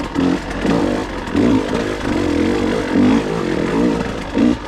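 A KTM 150 XC W TPI two-stroke dirt bike climbs a trail in second gear, its engine loud and close, rising and falling in repeated revving bursts under clutch work.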